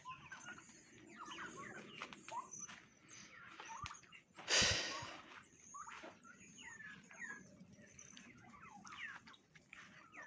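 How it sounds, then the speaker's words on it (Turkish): Turkeys in front of a farmhouse give faint, scattered gobbling and clucking calls over quiet outdoor ambience, with one sudden loud sneeze-like burst midway. "Hindiler şimdi de burada."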